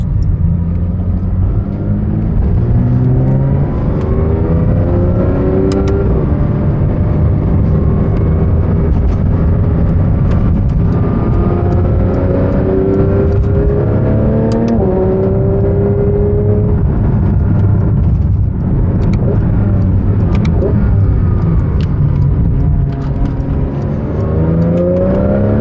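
A Porsche 992 GT3 RS engine rumbles and revs continuously, its pitch rising and falling as it accelerates and shifts gears up close.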